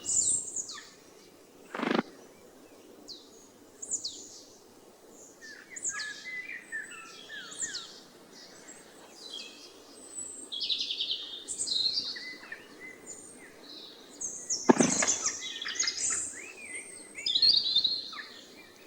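A flycatcher gives high, scattered chirps from its perch, with two brief louder flutters of wings, all fairly faint against a quiet outdoor backdrop.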